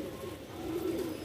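Madrasi pigeons coo steadily in a rooftop flying loft, a close, continuous low murmuring that swells slightly toward the end with no talk over it.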